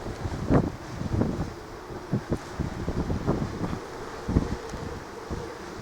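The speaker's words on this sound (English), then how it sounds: "It's not very strong wind, it's only 25 mile an hour, so it's nothing strong." Wind gusting across a misty hilltop in the Mendips at around 25 mph, buffeting the microphone with low rumbling bursts that rise and fall steadily throughout, with no voices.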